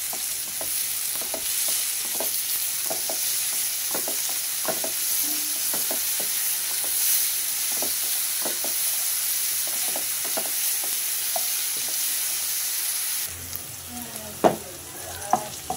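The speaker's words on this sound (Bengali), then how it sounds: "স্বাদ মতো লবণ দিয়ে নাড়াচাড়া করে সফট করে নিব।" Onions with salt frying in a pan, a steady close sizzle with repeated scrapes and taps of the spoon as they are stirred, which get sparser near the end.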